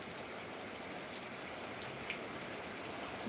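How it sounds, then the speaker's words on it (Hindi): Steady rain falls in a continuous, even hiss of drops, moderately close, with no voices. "अच्छा बारिश आ गया"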